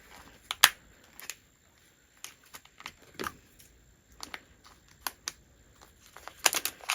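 Scissors snip through tough plastic packaging in a series of sharp, close clicks and crunches at an irregular pace, with quiet gaps between cuts and a quick cluster of snips at the end.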